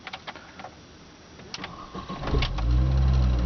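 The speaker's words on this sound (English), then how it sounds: "I'm just going to start the engine for you." A Mini Cooper S Supercharged is started: a few soft clicks, then the starter cranks briefly and the engine catches and settles into a loud, steady idle close by.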